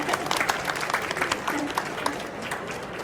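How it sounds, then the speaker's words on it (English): Applause from a seated audience at a London Book Fair disability briefing, many hands clapping densely at first and gradually thinning out, with faint voices murmuring underneath. "I think we should have a round of applause at this stage for them."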